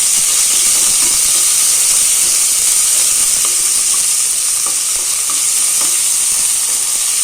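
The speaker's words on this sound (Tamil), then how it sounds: "இதில் வெங்காயம் போட்டுக்கலாம். நம்ம ஆனியன் போட்டுக்கலாம். வெங்காயம் போட்டுப்போம். வெங்காயமும் நல்லா வதங்கட்டும்." Onions sautéing in a little oil for peas pulao give a steady, loud broadband sizzle and hiss, with faint scrapes of stirring scattered through and no voices.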